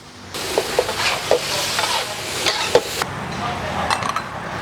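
Vegetarian sweet and sour vegetables with pineapple, cucumber and tomato are stir-fried in a pan, giving a steady sizzle broken by several scraping stirs and clatters of the spatula, close and fairly loud.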